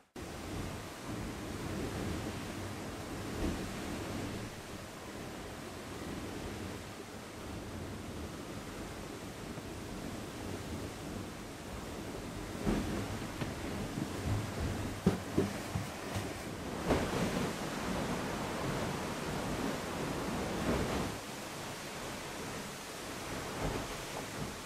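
Steady broadband rush of wind and water aboard a Class 40 racing sailboat running dead downwind in 16 knots of wind, with surges and splashes building midway; no talking.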